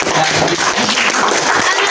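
Students in a digital classroom at an Indonesian madrasah applaud a classmate, a short dense burst of clapping that holds steady and loud for about two seconds without speech.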